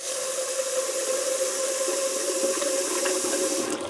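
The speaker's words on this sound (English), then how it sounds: "we're going to pop it in our pan and just with some cold water, we're going to cover it." Cold water pours from a tap into a pan of lentils, a steady, close, continuous splashing and trickling stream that runs evenly from start to finish.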